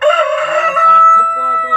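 A Brahma rooster crows once, loud and close, a drawn-out, strained call that fades at the end.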